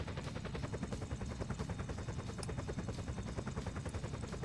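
A helicopter in the game GTA San Andreas thrums with a rapid, steady rotor chop, fairly faint and continuous, with no voices over it.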